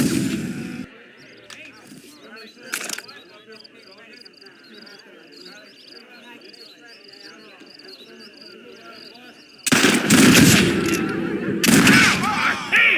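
Gunfire in the Red Dead Redemption video game: sharp shots burst in at the start and again near three seconds. A louder, dense volley near the end rises over a steady game soundscape of wind and crickets.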